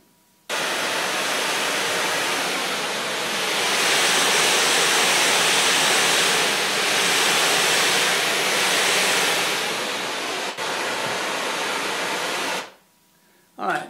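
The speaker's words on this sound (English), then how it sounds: "with single pink noise source by itself, mono source, no problem" Pink noise test signal from a single mono source plays through speakers as a loud, steady hiss that starts abruptly, swells slightly, briefly dips near the end, then cuts off.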